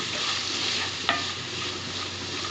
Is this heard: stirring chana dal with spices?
yes